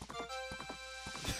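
Epona the horse in the video game Majora's Mask gives a steady, rhythmic clip-clop of hooves, close and clear, over a thin sustained game tone, ending with a short burst that may be the start of a neigh.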